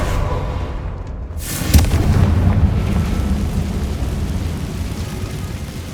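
A Confringo fire spell explosion in Hogwarts Legacy, a sharp blast followed by a rumbling, sustained roar that slowly fades, with no talk.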